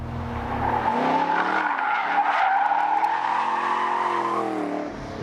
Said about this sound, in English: And for a 60-0 braking test, very impressive stopping power